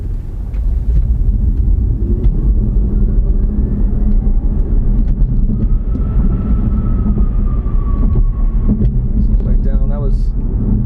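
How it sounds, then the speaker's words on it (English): A BMW i3 electric car launches hard from a traffic light, heard from inside the cabin as a loud, steady road-and-motor rumble with a rising whine, while someone talks over it. "at this light, I'll do a little launch, and it really puts you back in your seat"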